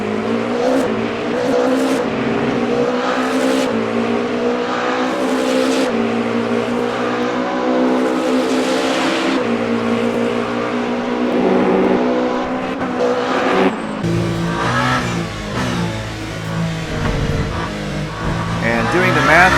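Race cars in the video game Le Mans Ultimate during a virtual 24 Hours of Le Mans, their engines droning and shifting steadily throughout as cars go by, with commentary running over them.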